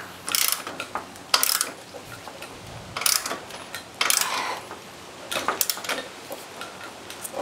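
A ratchet tightens the sprocket bolt on a scooter, bursts of quick clicking pawl sounds in short irregular runs, close and fairly loud, with no talking.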